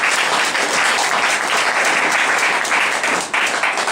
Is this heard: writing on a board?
no